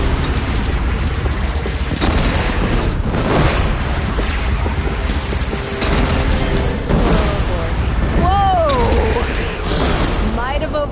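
A bridge collapsing in Horizon Zero Dawn Remastered, heavy rumbling booms and crashing debris rolling through a dense, loud roar for several seconds, with falling and sliding tones near the end.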